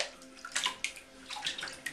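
A baby splashes water in a bath, with a run of bright, close splashes and sloshing bursts arriving in quick irregular clusters.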